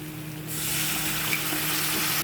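Water poured into a hot pan of fried spice paste gives a steady, loud hiss and sizzle that starts suddenly and runs on for about two seconds before cutting off.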